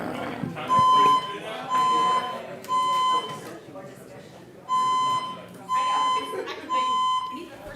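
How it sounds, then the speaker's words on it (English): Fire alarm going off inside a meeting building, sounding six loud, repeated electronic horn blasts of about half a second each in an irregular rhythm, with room noise and voices in between. "We had a fire alarm here, or some kind of an alarm"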